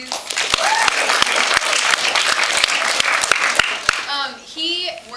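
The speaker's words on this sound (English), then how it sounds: "Hey guys, can we just clap for Thomas, please?" An audience breaks into loud, dense applause with sharp individual claps standing out, cheering voices mixed in, before tapering off as a voice begins speaking near the end.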